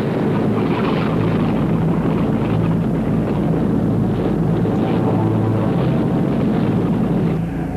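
Avro Lancaster bomber with four Rolls-Royce Merlin engines drones loudly and steadily, a deep, continuous propeller-engine roar with wind buffeting and no speech.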